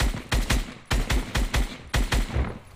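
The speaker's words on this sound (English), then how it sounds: "I totally missed those shots" SMG gunfire in the video game Fortnite, three quick bursts of rapid, loud shots, each burst several sharp cracks in tight succession, with no talking.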